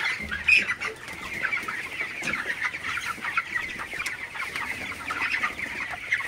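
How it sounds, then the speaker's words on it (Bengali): Broiler chickens in a poultry shed keep up a steady, dense chorus of clucking and soft chattering calls, with many birds close and overlapping throughout. "ব্রয়লার মুরগিগুলোকে একটু তাড়াই দিবেন, যাতে মুরগিগুলা খাবার খায়, দৌড়াদৌড়ি করে।"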